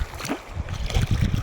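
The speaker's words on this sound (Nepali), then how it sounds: "यो चाहिँ चुर्लिङ खोला है" The Churling stream rushes and gurgles as a steady, fairly loud wash of flowing water heard close up, with no voices.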